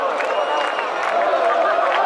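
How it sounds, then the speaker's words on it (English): A MotoGP race crowd at Jerez cheers in a broad, steady roar of excited voices, sustained and fairly loud throughout, with a faint engine-like tone weaving through the crowd noise. "The crowd's excited."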